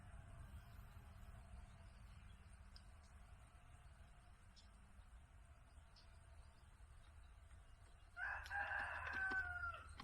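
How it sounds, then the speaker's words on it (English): A rooster crows once late on, distant and fairly faint, over low steady background rumble near an outdoor shelter build. "I hear you, goofy rooster."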